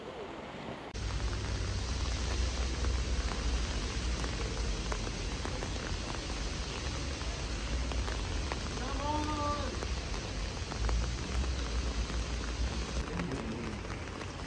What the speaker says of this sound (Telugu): వర్షం మాత్రం అసలు క్షమించట్లేదు